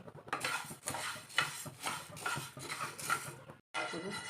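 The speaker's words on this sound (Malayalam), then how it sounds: "ഇനി നമുക്ക് മല്ലി വറുത്തെടുക്കാം" Coriander seeds are dry roasted and stirred in a pan, with repeated scraping and rattling strokes at a steady rhythm, close by.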